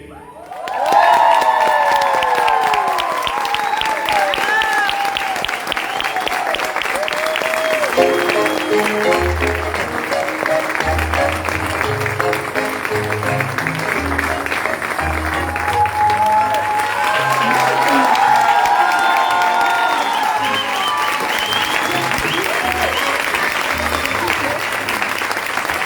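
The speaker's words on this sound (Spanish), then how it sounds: "Aplauso para las paganas, para Emilce Marcolongo, para Malena Tello," An audience at a gallery opening breaks into sustained, loud applause with scattered cheers and whoops, a voice speaking over the clapping through much of it.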